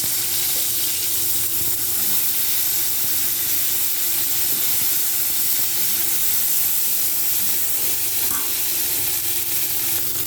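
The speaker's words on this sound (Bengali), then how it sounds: "এরপর আরেকটু কিছুটা তেল দিয়ে তারপর আমি কপিগুলোকে ভাজবো।" Cauliflower florets frying in oil in a pan, a loud, dense, steady sizzle and hiss close up, with faint stirring movements and no voices.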